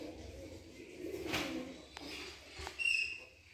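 Pigeons cooing near a temple, a few soft low coos with brief bird chirps rising above light background noise.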